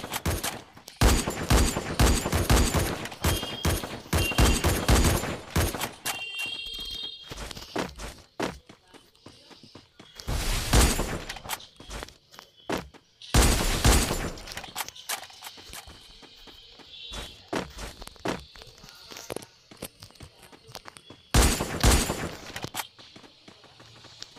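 Gunfire in the video game Free Fire: dense rapid bursts of shots at the start, then scattered single loud reports and short volleys with quieter game sounds between.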